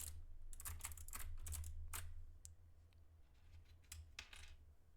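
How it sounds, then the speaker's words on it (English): Rapid typing on a handmade mechanical keyboard, bursts of crisp clacky keystrokes from its switches close up, slowing into scattered presses toward the end. "I really hope you like the sound of my switches."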